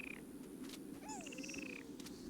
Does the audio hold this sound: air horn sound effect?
no